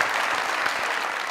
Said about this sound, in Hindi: तालियां भाई